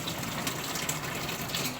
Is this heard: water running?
yes